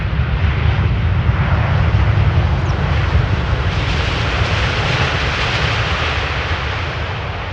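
Airliner landing on runway 18R Polderbaan at Amsterdam Schiphol, a loud sustained low engine roar with broadband wind rush, steady throughout with no talking.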